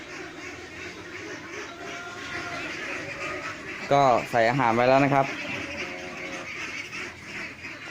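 Laying ducks call out at feeding time with a brief burst of loud, harmonic honking quacks in the middle, over steady farm background noise, while someone talks throughout.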